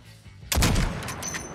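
A single sharp sniper rifle shot in COD Mobile cracks loudly after a quiet start, then a booming tail and reverberant decay fill the rest of the moment, with a faint high tone near the end.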